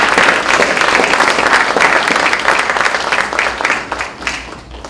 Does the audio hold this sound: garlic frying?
no